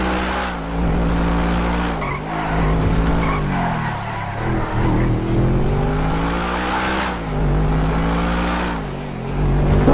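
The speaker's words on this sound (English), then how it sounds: "It is a brute, this car, but the Stig isn't phased." A race car tears around a modded Top Gear track in GTA 5 with a damaged rear wing. The engine roars loudly and continuously, its pitch rising and falling through gear changes, with tyre squeal mixed in.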